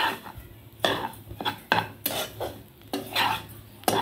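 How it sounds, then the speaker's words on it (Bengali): A spoon scrapes and clinks against a pan while mixing semolina with black pepper powder and black salt. The strokes are close and irregular, with sharp metallic taps and no talk. "এবার ভালো করে সুজিটাকে মিশিয়ে নিতে হবে।"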